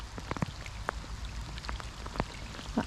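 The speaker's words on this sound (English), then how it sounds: "That hood rain sound." Rain patters on a waterproof hood close by, soft irregular taps with a few sharper drops standing out over a steady hiss.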